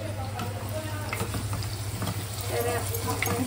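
Onions sauté in a pan for yakhni pulao, a close, continuous sizzle with scattered crackles and stirring clinks, heard alone under a low steady kitchen hum.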